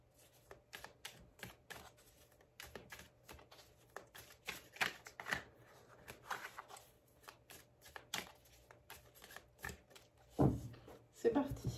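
Tarot cards are shuffled and riffled close up in a quiet room, a soft, irregular run of rapid flicks and taps with occasional louder slaps, lightly mixed with faint background sounds.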